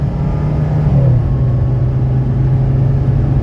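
A 1985 Mercedes 300D diesel engine accelerating during a test drive makes a steady, loud low drone with a faint rising tone, heard from inside the car with no talking.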